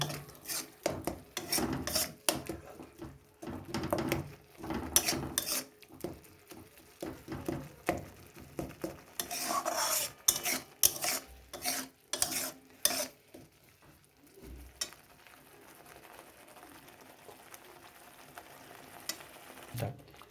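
Tomato, coriander and mustard chutney being mixed and stirred in a pan, irregular bursts of rasping scrapes and rubs that come in clusters, then thin out and grow fainter toward the end.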